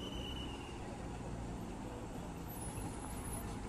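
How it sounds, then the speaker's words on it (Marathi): A new BS6 MSRTC state bus on the Chiplun–Akkalkot route rolls into Pandharpur's central bus stand with a steady low engine rumble and road noise. A faint high tone rises near the end, and no one speaks over it. "आपली चिपळूण अक्कलकोट चिपळूण गाडी आली नवीन BS6 पाहू शकताय."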